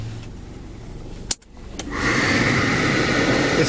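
The power antenna motor of a 1993 Mercedes-Benz 190E sedan with a 2.3 four-cylinder engine starts with a click, then a steady mechanical whir rises and holds over the idling car.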